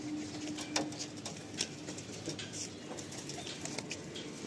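Madrasi baby pigeons coo softly at close range, low murmuring calls with light fluttering and pattering in a loft, and no talk.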